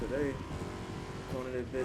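A Dodge Challenger Hellcat engine in the iRacing sim drones and revs steadily throughout, with tire noise, while someone talks excitedly over it.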